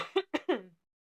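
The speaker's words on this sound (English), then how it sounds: "I don't know why I got this yucky cough." Three quick coughs in a row, close and fairly soft, followed by silence.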